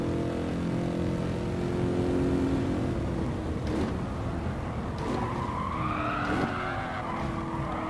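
Tires squeal and skid under heavy braking on a 1971 AMG Mercedes 300 SEL race car in Gran Turismo Sport at Dragon Trail, a continuous engine roar with rising screeches over several seconds.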